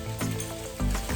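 Vegetables, including mushrooms, sizzling steadily in a hot frying pan, with a crackling hiss that swells louder in brief bursts as they are stirred.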